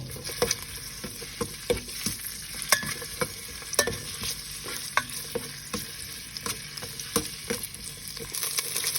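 Spices and galangal are dry-roasting in oil in a pot for a Thai beef curry. A continuous crackling sizzle is punctuated by sharp, frequent spoon scrapes against the pot, close up and with no voices.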